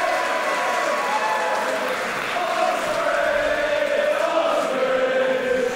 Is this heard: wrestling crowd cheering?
yes